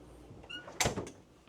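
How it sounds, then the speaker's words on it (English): A pocket door in a 2008 Country Coach Intrigue Jubilee motorhome slides along its track, a short scraping rush that peaks sharply near the middle with a faint squeak before it, heard close and alone. "You got a pocket door here"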